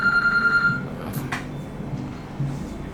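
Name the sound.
phone ringing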